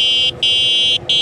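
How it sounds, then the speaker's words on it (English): Horn on a Jansno X50 budget e-bike, a loud electronic buzzing tone sounded in three long blasts with two short breaks between them, heard up close. "Now let's test out this horn."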